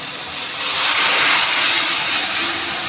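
Fresh coconut milk poured into hot spiced oil in a pan gives a loud, steady sizzling hiss that swells and holds for a few seconds.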